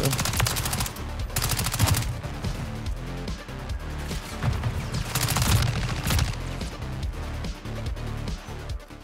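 Honey Badger rifle firing in Call of Duty: Modern Warfare III, loud rapid automatic bursts of gunfire in quick succession, close and dense with brief gaps between volleys, with no talking.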